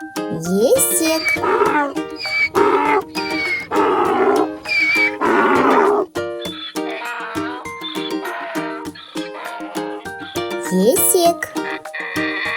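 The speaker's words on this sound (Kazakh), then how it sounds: "Есек." A donkey braying in repeated loud, rough bursts, set against bouncy children's music that carries on throughout.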